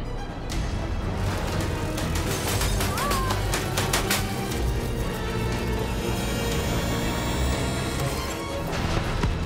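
Gunfire in the video game Call of Duty Black Ops 3, loud continuous bursts of shots and crashing impacts layered over a dense battle din with brief voices.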